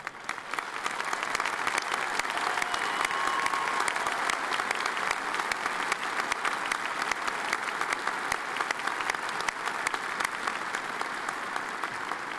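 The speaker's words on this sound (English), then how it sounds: "please rise and let's give them a round of applause" A large commencement audience stands and applauds military and veteran graduates, a loud, sustained and dense round of clapping that holds steady throughout with no talk over it.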